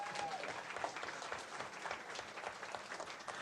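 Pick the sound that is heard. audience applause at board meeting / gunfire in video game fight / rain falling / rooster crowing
audience applause at board meeting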